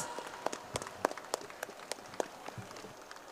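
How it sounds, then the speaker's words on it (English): A school event audience in Hyderabad claps together in a steady patter of overlapping handclaps, moderately loud and fairly close, with no voices over it. "Give them a huge round of applause."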